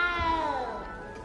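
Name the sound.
cat meowing in the Hogwarts Legacy video game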